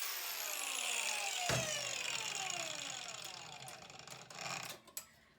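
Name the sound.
grinder cutting stainless steel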